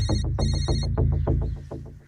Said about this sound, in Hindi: विक्रम, लगाओ हीरो को फोन लगाओ